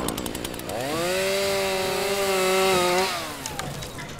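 A chainsaw revs up sharply, holds a loud, close, high whining pitch for about two seconds, then winds back down to a quieter idle.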